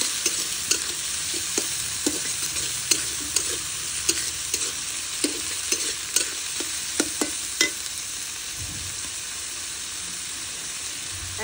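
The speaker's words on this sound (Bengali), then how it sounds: "মশলাটা একটু ভালো করে কষাতে হবে।" A ginger, onion and cumin paste for chicken biryani sautés in a hot pan, with a continuous sizzle broken by regular sharp scrapes of a spoon stirring it, close and without talk.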